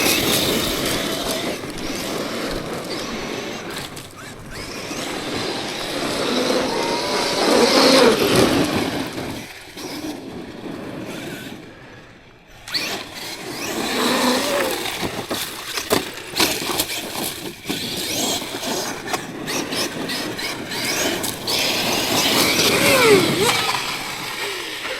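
Traxxas X-Maxx 8S radio-controlled monster truck run at nearly full throttle outdoors, its electric motor whining and surging loud and close, with a brief drop in the middle before revving back up.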